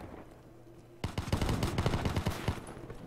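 Rapid bursts of automatic gunfire from the video game Call of Duty Black Ops III break out after a quiet second and rattle on loudly and densely to the end.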